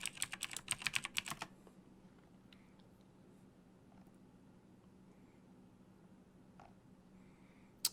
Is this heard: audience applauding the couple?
no